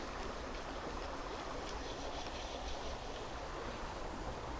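River water rushing continuously on a trout fishing outing, a steady full hiss of flowing current with no voices.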